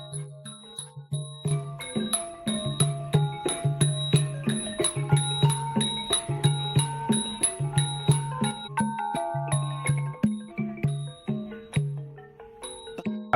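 Bells, gongs and xylophone play a lively rhythmic pattern for a Lao Lamvong circle dance, with bright struck notes and a repeating low tone ringing out close and clear, alone without voices.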